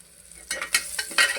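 Asafoetida powder tipped into hot oil after curry leaves have crackled, giving a few quick bursts of sizzling and the scrape of stirring, close and fairly loud with no talk.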